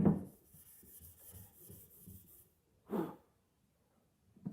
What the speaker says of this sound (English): I'll take my sanding block here